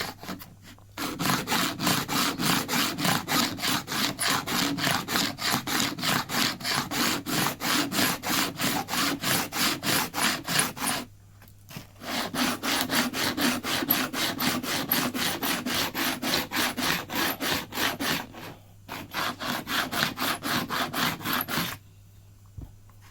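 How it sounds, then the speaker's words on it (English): Files scrape across the excess fret ends on the sassafras fretboard of an acoustic guitar in rapid, even, rhythmic rasping strokes. Two long runs of steady back-and-forth filing are separated by short pauses, close and clear with no talking. "Has two files, one at an angle and one vertical. Vertical one I use first just to roughly get any excess ends fixed."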